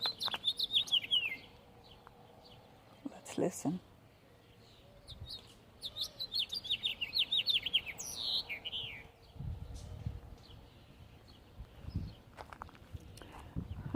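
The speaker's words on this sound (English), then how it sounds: "Oh, a bird of some sort serenading us as I walk." Birds chirp and sing outdoors in a garden patch of cheatgrass and mint, bright repeated phrases in short bursts, with footsteps crunching along and a brief spoken remark.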